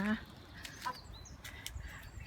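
A chicken gives one short, clear call from a backyard coop housing five chicken breeds, followed by faint clucks and rustling.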